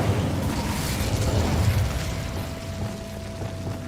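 Incendio fire spell in Hogwarts Legacy, a sustained roaring, crackling burst of flame that fades into a steady rumbling hiss.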